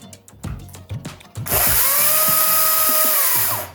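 A Makita 40V Max power tool ratchets and clicks briefly, then spins up to full speed with a loud, steady high-pitched whine that holds for a couple of seconds before winding down.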